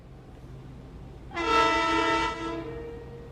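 A locomotive horn in Train Simulator, set on a snowy run, sounds one sustained, rich multi-tone blast of about a second over a low engine rumble, then fades into the continuing drone.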